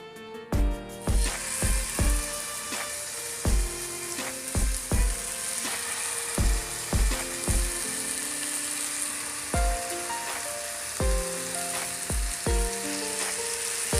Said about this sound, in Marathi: तर अशाच प्रकार राहिलेला ना पीस पण आपण तळून घेऊ